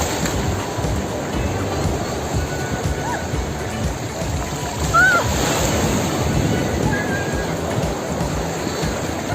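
Sea water sloshes and splashes continuously around someone wading through shallow surf toward a boat at Golden Sands, Varna, Bulgaria, with wind rumbling across the microphone.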